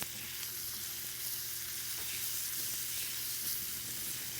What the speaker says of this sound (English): I'm gonna just take a second and just give that bacon a stir.